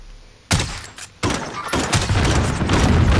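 A grenade explodes in Call of Duty Plunder with a sudden loud broadband burst, then a second blast follows about a second later, leaving dense rumbling gunfire-like noise that continues to the end.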